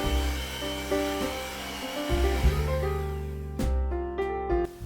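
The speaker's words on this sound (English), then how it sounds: "Let's whisk them together until soft peaks are formed." Heavy whipping cream and powdered sugar are whisked in a bowl, producing a close, steady whirring hum that shifts pitch as it works, with a few scraping knocks near the end.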